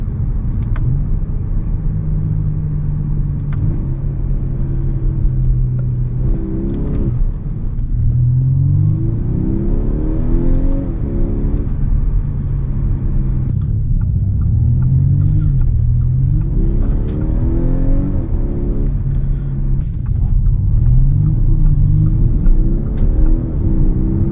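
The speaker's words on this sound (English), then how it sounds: "I am a fan of this dual clutch when you do get up to speed and in dynamic mode, where it really sharpens up those shifts" A 2023 Audi A5 Sportback with a dual-clutch gearbox accelerates hard in dynamic mode, its engine note climbing in rising sweeps that break off abruptly at each quick upshift, several times in a row, loud and close.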